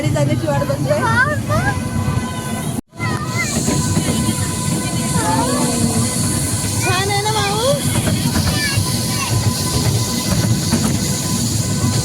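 An amusement park ride train at Wonder Park runs with a steady rumble and hiss, while people talk and excited children's voices rise and fall over the continuous noise.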